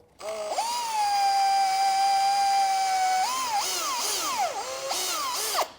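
A drill whines steadily at low speed for a few seconds while slowly cutting threads into a metal brake spindle with oil, then its pitch dips and wavers as it bites into metal, close and loud with no talking.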